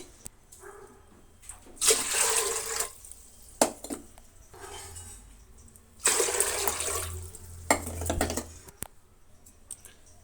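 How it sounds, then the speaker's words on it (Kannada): Water is poured into a pot from a small metal vessel in three separate splashing pours, with brief clinks of metal between them and no talking. "ಈ ಚೆಂಬಲ್ಲಿ ನಾನು ಮೂರುವರೆ ಚೆಂಬ ನೀರನ್ನು ಸೇರಿಸ್ತಾ ಇದ್ದೀನಿ"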